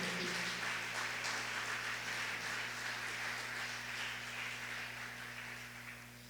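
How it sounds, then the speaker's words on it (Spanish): Applause from a church congregation during a sermon, broad steady clapping filling the room that slowly fades toward the end, with a constant electrical hum underneath. "Vamos a darle un aplauso al Rey de Gloria"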